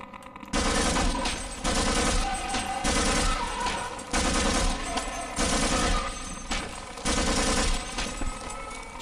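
Loud bursts of rapid gunfire from the video game Half-Life, fired in repeated volleys roughly every second and a half with brief gaps between them, close and dense with no talking.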